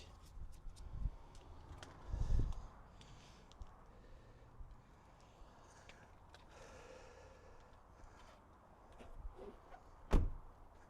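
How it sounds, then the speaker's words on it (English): A 1996 Ford Ranger door thuds shut with a solid knock, followed by a quieter clunk later, over a low background hum. "Door closed."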